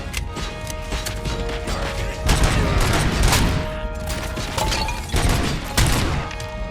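Gunfire in the video game Robocop Rogue City: sustained bursts of loud, close shots with impacts and crashes, forming a dense, continuous barrage that swells and pulses throughout.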